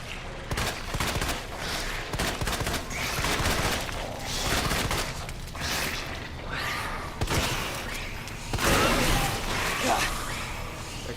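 Repeated Magnum revolver shots in Resident Evil 2, a series of loud booming blasts spread through the clip amid dense game noise, with someone talking over the action.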